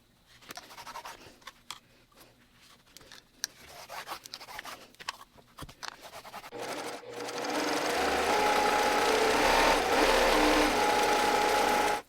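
A sewing machine stitches a line on a fabric sunglasses case with a magnetic closure, opening with scattered handling clicks and then a steady, close, continuous whirring run for the last few seconds, with no talking.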